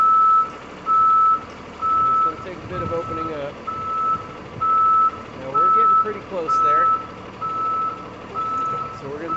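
A shunt truck (yard dog) reverses and pivots, its backup alarm beeping steadily over the diesel engine rumble while someone talks throughout.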